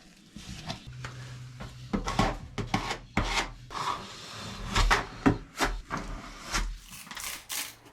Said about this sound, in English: The surface is then sanded, getting rid of the excess of epoxy in places.